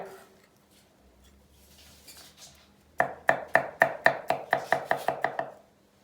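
Leeks are chopped finely with a knife on a cutting board in a home kitchen, about a dozen crisp, evenly spaced close chops following a few quiet seconds of soft handling sounds.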